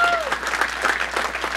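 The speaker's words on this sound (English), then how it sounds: "One more round of applause for making this happen" Audience applause at the AppSecCali 2019 application security conference keynote, a short burst of steady clapping from a seated crowd, with faint tonal traces of voices mixed in.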